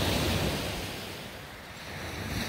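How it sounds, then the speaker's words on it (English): Stormy ocean surf rolls and crashes in a steady broadband roar, fairly loud and close, swelling at the start and end with a slight dip in between, mixed with wind buffeting the microphone; no one speaks. "The power of the ocean and the storms."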